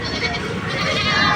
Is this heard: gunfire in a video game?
no